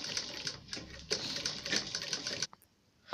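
A sewing machine stitches folded fabric along a blouse's back neck, running in close rapid bursts with short pauses before stopping abruptly near the end, with a few faint clicks afterward.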